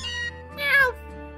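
A cat in the game Pokemon Sun gives a single short, bright meow over a steady tonal game music background, fairly close and clear.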